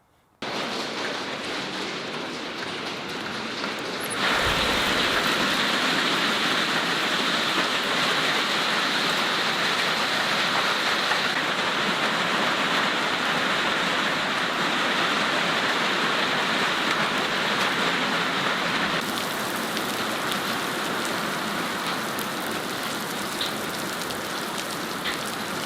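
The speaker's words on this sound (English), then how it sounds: "There we go, so we got a nice dump of hail there." A prairie hail storm pounds a farm, a loud continuous dense hiss and patter of hailstones that swells abruptly after a few seconds, holds steady and eases slightly near the end, with no talking.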